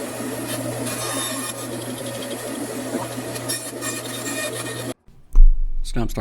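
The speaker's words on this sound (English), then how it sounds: "Then I just went over the bandsaw and cut it out." A bandsaw cuts through scrap pipe in a workshop, a steady loud whir with a low hum running for about five seconds, then stopping abruptly, followed by a brief knock.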